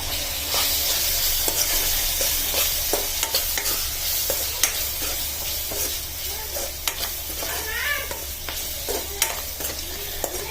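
Salt being mixed into a frying tomato and cauliflower curry in a village kitchen: a continuous sizzle under repeated scraping stirs of the spoon, close and steady, with no talk.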